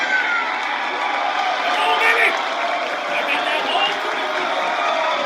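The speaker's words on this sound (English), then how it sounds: "You can hear the crowd erupting." A wrestling arena crowd at a live AEW Continental Classic event roars continuously, a loud, broad wash of cheering and noise that holds steady without breaks.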